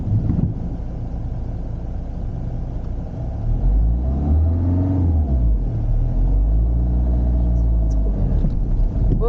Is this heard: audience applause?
no